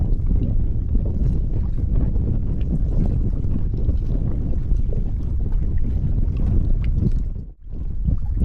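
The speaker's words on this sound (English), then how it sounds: "Wind's picking up." Wind blowing outdoors by the water on Florida's Space Coast, a steady rumbling gusty roar buffeting the microphone throughout, briefly dipping near the end.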